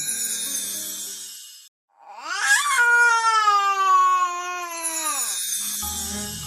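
A baby cries in a loud, drawn-out wail with a clear rising and falling pitch, preceded and followed by quieter background sounds after a brief silence.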